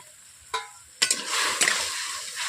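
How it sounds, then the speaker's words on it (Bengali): Pumpkin and soybeans are stirred together in a frying pan, with a few close scraping strokes over a steady sizzle and no talking. "একসঙ্গে আমি নেড়ে নিচ্ছি এইভাবে"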